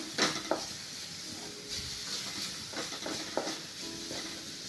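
Grated coconut roasting in a pan with a little coconut oil, heard as soft scraping and stirring with light clinks of a spoon against the pan, fairly close and steady.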